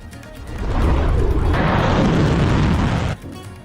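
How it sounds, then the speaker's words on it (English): Loud, sustained roaring blast rumble from missile interceptions over Dubai near the Dubai International Convention and Exhibition Center, swelling in for about two and a half seconds before cutting off sharply. "loud explosions were heard in Dubai as Iran missiles intercepted near the Dubai International Convention and Exhibition Center"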